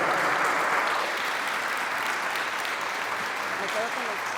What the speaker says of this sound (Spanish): recibamos con un fuerte, pero fuerte aplauso